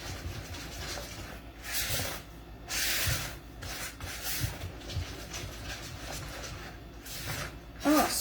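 A spoon scrapes and stirs thick molasses cookie batter in a plastic Tupperware bowl, close rhythmic rubbing strokes with a few louder scrapes and a small clink near the end.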